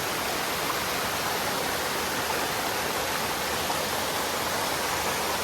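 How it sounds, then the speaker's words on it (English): Steady, full rushing of water spilling over a small waterfall in a mountain stream crossing a trail on Mount Mansfield, Vermont, continuous and close, with no voices. "Trail is actually going to cross this stream here. Put a pretty little waterfall."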